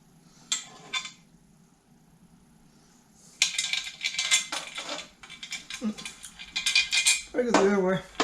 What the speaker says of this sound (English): I'm just going to get the 2 bolts, 2 nuts, and 4 washers.